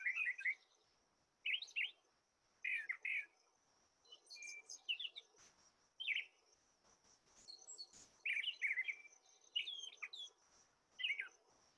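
A mimic songbird at a marsh sings short bursts of notes, many given in doublets, repeating phrase after phrase at moderate distance with brief pauses between, over faint insect hum.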